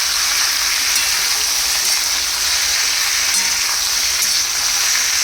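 Potato slices fry in a pan with red chilli powder and turmeric while being stirred, a loud dense sizzle with faint periodic scrapes of the spatula, close up, no speech.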